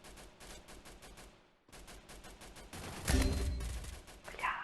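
Rapid bursts of gunfire in the video game Free Fire, repeated quick shots in clusters with a short gap, then a louder, heavier volley near the end.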